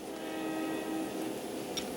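A diesel locomotive horn from an N scale model train sound unit blows as a steady, faint, sustained tone over a constant background hiss, with no talking.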